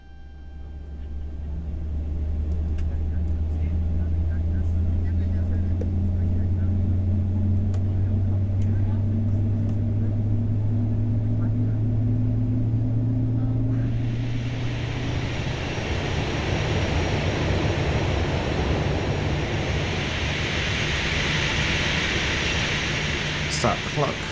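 Aircraft engines spool up for takeoff in the X-Plane flight simulator at Innsbruck, a steady rising whine climbing in pitch before a broad roar of takeoff power takes over and holds loud and constant.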